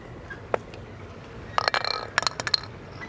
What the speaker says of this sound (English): we'll take this punch tool and we'll make a hole in the 1/2-inch poly tube